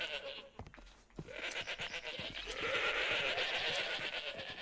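Sheep bleat loudly in modded Minecraft, a dense, overlapping chorus of wavering baas that swells after a brief quieter moment.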